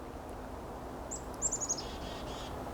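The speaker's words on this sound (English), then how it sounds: "The bird." A single bird sings a short rapid run of high, repeated chirping notes, moderately near, over a quiet, steady outdoor background.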